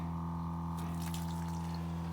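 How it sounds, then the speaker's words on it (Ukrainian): Fresh water runs from a mended hose outlet beside a stove inside a greenhouse, a steady rushing flow with a constant hum and splashing that grows livelier partway through; no one speaks. "А тепер коло грубки є вихід водички свіженької."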